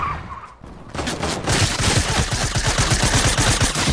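Rapid gunfire in Fortnite, a fast run of loud shots firing one after another after a quieter opening second, with no voices.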